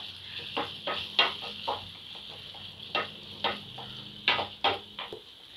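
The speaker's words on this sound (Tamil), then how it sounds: "கருவேப்பிலை சேர்த்து நல்லா மிக்ஸ் பண்ணி விட்டுக்குங்க." Curry leaves stirred into a simmering tomato gravy for a green turkey berry curry: soft sizzling and bubbling underneath, with intermittent scraping strokes of a ladle against the pot, close by and with no speech.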